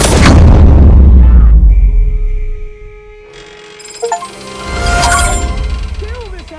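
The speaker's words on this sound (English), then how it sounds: "I'll breach the door." A door-breaching explosion in Robocop Rogue City, a loud booming blast up close, followed by ringing debris, metallic clinks and a second rumbling burst.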